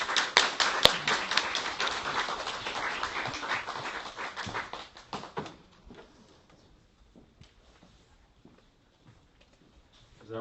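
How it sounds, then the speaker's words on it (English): Audience applause for a speaker at a talk at Google Campus Seoul, dense clapping that holds for about five seconds, then thins to scattered claps and fades to near quiet. "please, let's give a big round of applause to Mr."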